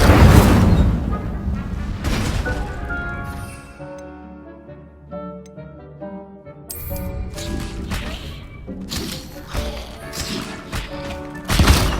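Casting the Incendio fire spell in Hogwarts Legacy brings loud, booming bursts of flame at the start and again at the very end. Sustained background music with low rumbles plays in between.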